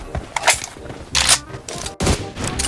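Gunfire in the mobile game PUBG Mobile comes in three short, loud bursts of rapid shots separated by brief pauses, with no talk.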